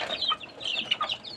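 Backyard poultry, chicks, hens and roosters, cluck and chatter while being fed desi ghee mixed into their food: quick, close, overlapping clucks in an irregular flurry, with no talk.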